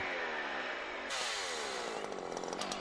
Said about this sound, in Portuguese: Quando usa a parte superior, está a serrar com a corrente de impulsão.